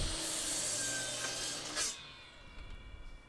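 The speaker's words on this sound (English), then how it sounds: "We use this miter saw, make these cuts." Miter saw cutting lumber for a 2x12 bass guitar speaker cabinet: a sustained broadband rasp of blade through wood that ends abruptly near the two-second mark, followed by quieter rustling and handling noise.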